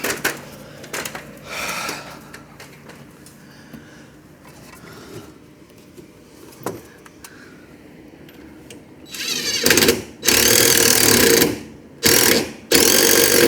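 Mechanical clicks and scraping of a new nut being twisted on under a 2004 Mustang Mach 1, faint at first, then louder bursts of ratcheting or metal work near the end, with no talk.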